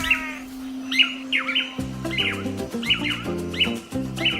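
Tangara manakin birds in Brazil's Atlantic Forest give repeated bright, chirping whistled calls at a steady rhythm, fairly close and clear, with a low droning tone and later a layered musical background underneath.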